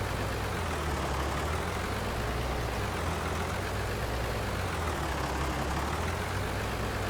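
A tractor engine drones steadily in a farming video game, a constant loud low rumble with a broadband hum that runs unbroken and unchanged throughout, with no voices.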